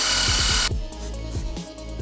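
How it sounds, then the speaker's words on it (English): A wire wheel on a power tool whirs loudly while cleaning the rusty bore of a Miata suspension knuckle, a brief high-pitched burst that drops to a lower scraping grind, close and without talk. "let's just give it a quick clean with a wire wheel"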